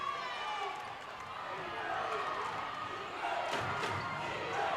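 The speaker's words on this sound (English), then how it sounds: "The crowd is coming alive." Indoor college basketball crowd in a men's game between California and Mercyhurst, a broad roar of cheering that swells over several seconds beneath a commentator's voice, with faint ball bounces and sneaker noise in the arena.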